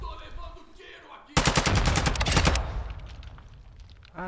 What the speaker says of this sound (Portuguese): Tô levando tiro aqui!